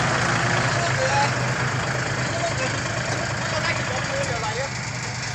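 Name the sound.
tractor engine idling while pulling stuck dump truck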